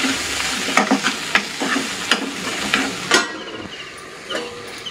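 Tomato curry with salt and turmeric stirred in a hot pan, sizzling under a run of spoon scrapes and clacks that come in uneven strokes, then settle to a softer fry.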